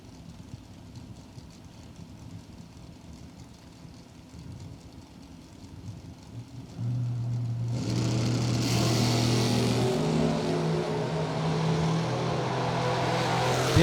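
A pickup truck's engine is low and steady at first, then roars up loud and close around the midpoint, revving hard with a sustained, rising drone as it races past.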